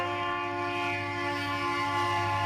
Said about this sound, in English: The first catch of the afternoon is NSP-12, the Commerce Autorack train.